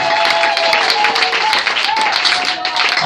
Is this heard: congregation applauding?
yes